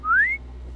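A single short rising whistle in the horror game MadMan, a clear pure tone sliding upward over a fraction of a second above a low hum.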